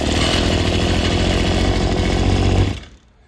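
An Echo SRM-2100 string trimmer engine, just returned to running after a carburetor swap, revs loud and steady with a raspy two-stroke buzz close by, then cuts off abruptly near the end.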